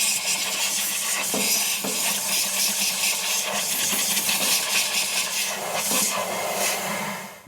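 A compressed air hose blasts down into the clutch housing of a flatfender Jeep, a steady loud hiss of rushing air lasting several seconds with faint knocks and rattles of debris underneath.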